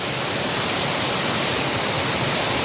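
A waterfall in a forest roars loud and constant, a thick unbroken rush of falling water with no voices or other sounds.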